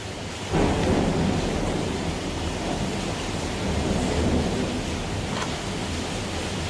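Steady heavy rain pours down with a deep rolling rumble of thunder, a broadband wash that swells in near the start and stays loud and continuous throughout.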